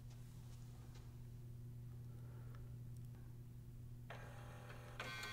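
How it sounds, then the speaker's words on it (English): A low steady electrical hum with faint ticks, then a mechanical whirring and clicking kicks in near the end as an HP OfficeJet Pro 8710 inkjet printer starts initializing after power-on. "The printer will begin initializing and make some noise."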